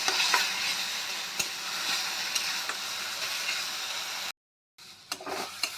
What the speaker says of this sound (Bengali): এবার ভালো করে কষিয়ে নেব যতক্ষণ না এর কাঁচা গন্ধটা চলে যাচ্ছে।